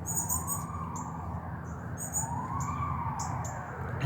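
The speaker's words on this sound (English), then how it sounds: "What kind of siren is that? Is that the police or is that like the ambulance?" An emergency vehicle siren wails at a distance, slow rising and falling sweeps repeating steadily under a constant background hum, with faint higher chirps above.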